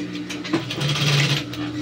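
A sewing machine stitches a pocket into a pair of trousers, giving a close, steady mechanical whir with a low motor hum and a faint rattling of the moving parts.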